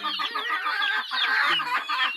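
A flock of chickens clucking steadily and densely, many overlapping calls close by, with no talking.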